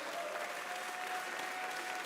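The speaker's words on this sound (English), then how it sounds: "give a massive round of applause for these incredible racers on the stage" Dense, even applause from an esports event audience for racers on stage at the Nintendo European Championships, sustained and fairly distant, with a faint murmur of crowd underneath.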